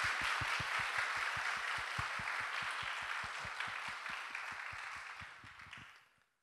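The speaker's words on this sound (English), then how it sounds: "So let's give them another round of applause." Audience applause at the 2018 Tzu Chi USA English retreat, a steady wash of clapping from a crowd that runs for about six seconds, thins out toward the end and then stops, with no talking over it.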